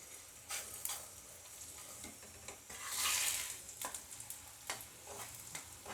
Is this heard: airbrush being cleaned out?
no